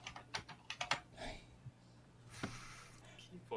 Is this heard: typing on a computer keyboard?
yes